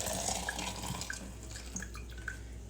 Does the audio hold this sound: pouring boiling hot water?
yes